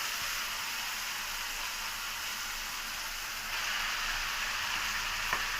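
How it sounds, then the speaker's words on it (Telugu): Gongura leaves fry with thinly sliced tomatoes in a pan, a steady, close hissing sizzle that fills the whole stretch with a slight rise near the end. "ఇప్పుడు గోంగూర వేస్తున్నాను."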